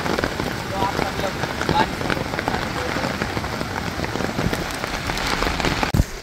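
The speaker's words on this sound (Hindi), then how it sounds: "ऐसे ही इसी तरह बारिश गिरती रहे" Steady rain patters on surfaces nearby, a dense continuous hiss of drops throughout, with a voice faintly heard under it and a brief bump near the end.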